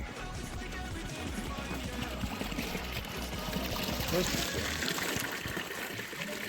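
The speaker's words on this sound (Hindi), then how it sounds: "पानी पीछे से आ रहा है," Water trickles and pours steadily into a stone tank at Kangra Fort, a continuous splashing flow with voices talking over it.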